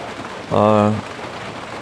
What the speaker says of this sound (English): It is raining down now